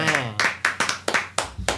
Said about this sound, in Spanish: Sí, un aplauso para usted.